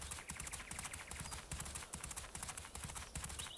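Rapid, steady clip-clop of horse hooves from a riding video game, a continuous rhythmic patter of footfalls with no talking.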